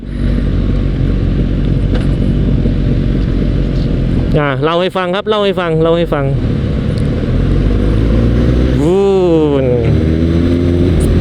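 A Kawasaki Ninja ZX-6R sport motorcycle engine drones steadily throughout while riding, with someone talking over it in the middle and again near the end.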